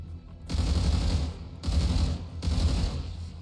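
Bursts of video game gunfire come in three dense, loud volleys, a rattling fusillade that starts, pauses briefly, then resumes twice in quick succession.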